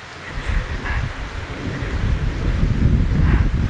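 Heavy rain with rumbling thunder over farmland, a steady loud wash with deep low rolling swells and gusty wind buffeting the microphone throughout.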